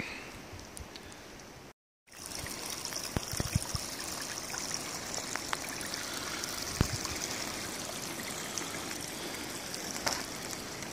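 Rain runoff trickles steadily along a wet hiking trail, a continuous close watery babble with a few soft clicks and one brief dropout.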